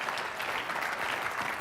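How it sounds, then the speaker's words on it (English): Audience at a CIO executive summit giving a round of applause, a brief, fairly soft burst of steady clapping from a seated crowd. "give him a round of applause"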